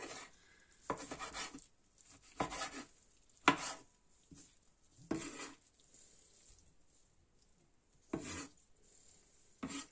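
A knife chops Opopanax hispidus herbs on a board in a few separate bursts of quick, scraping cuts, close and fairly quiet, with pauses between them.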